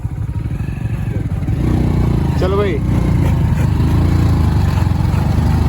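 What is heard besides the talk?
motorcycle riding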